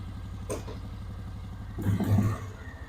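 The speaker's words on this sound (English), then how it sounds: "I just want to make sure that this quad does go in the gears." Quad ATV engine idling with a steady low chug, then a clunk and a brief rise in revs as a gear is engaged; fairly quiet and close, with no talking.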